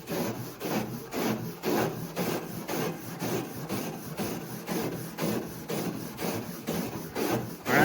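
Rhythmic back-and-forth scrubbing on a rusty '92 Firebird body panel coated with an acid rust-removal product, a steady gritty rasp repeating about twice per second, close and clear with no talking.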